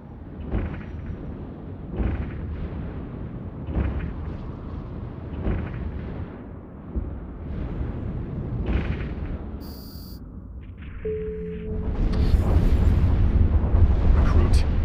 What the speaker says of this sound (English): Activate your primary weapon to destroy the generator.